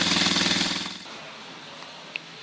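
Yamaha XS400 motorcycle engine, a café racer project, running with a loud rapid staccato idle for about a second before cutting off, leaving quiet room noise and a single faint click.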